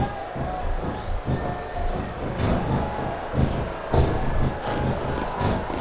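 Crowd chanting from an arena audience during a wrestling match in the video game SVR 2007, a sustained, moderately loud roar of voices with rhythmic swells and a few sharper bursts.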